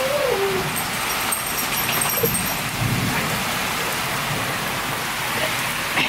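Steady rain falls outdoors, a constant dense hiss of drops on surfaces close around, with a brief bark-like sound near the start.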